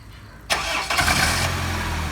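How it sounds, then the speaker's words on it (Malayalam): A Honda Civic with a custom low-budget valvetronic exhaust starts up outdoors: a quiet moment, then a sharp crank and catch that settles into a steady, rumbling idle. "അപ്പോൾ ഇത് ഇനി സ്റ്റാർട്ട് ചെയ്തിട്ട് പുറത്തുനിന്നുള്ള സൗണ്ട് ഒന്ന് കേൾപ്പിച്ചു തരാം."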